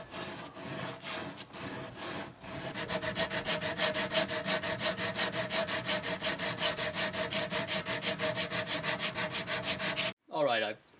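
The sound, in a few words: hand sanding wood corners with 120 grit sandpaper on sanding block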